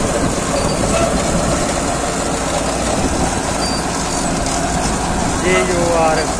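A Powertrac Euro 60 tractor engine runs steadily with a continuous low rumble, while someone talks over it nearby.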